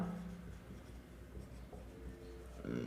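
Pen writing on paper while a math problem is worked out, faint continuous scratching with small strokes and a soft tap near the end, close but quiet, with no talking.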